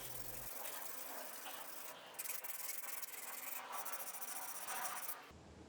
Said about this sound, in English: I'll sand it from 150 grit up to 400 grit.